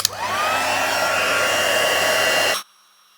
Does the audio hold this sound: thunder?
no